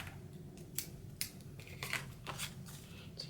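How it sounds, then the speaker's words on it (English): Scissors snipping through paper while cutting out a pillow box, several distinct crisp snips spaced irregularly, close and quiet with no talking. "So now we're going to go ahead and cut that away."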